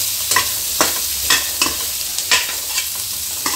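Onions stirred in hot oil in a kadhai, a steady loud sizzle broken by several scraping strokes of the spoon at a slow, regular pace, close up and with no voices.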